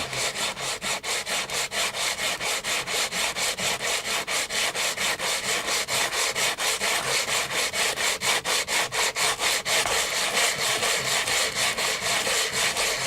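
Steady coarse rubbing strokes repeat in a fast, even rhythm, a gritty scraping texture like sanding a damp surface, close and continuous throughout.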